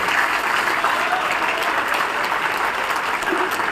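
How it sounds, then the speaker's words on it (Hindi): Sustained audience applause at a political event in Rewa, a thick wash of many hands clapping steadily and loudly, with a few faint voices underneath. "एक बार राजीव जी के लिए जोरदार ताली बजाए"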